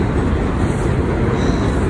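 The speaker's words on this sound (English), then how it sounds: "Waiting on the F train shuttle, and they keep switching." Loud, continuous rumble of a New York City subway train on the F line arriving, a steady low roar with rattling along the rails.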